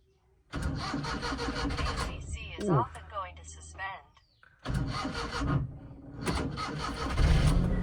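A Maruti 800 car, left unused for three or four days, cranks with a rough, sputtering start, then catches and settles into a steady running rumble, with people talking over and between the engine noise.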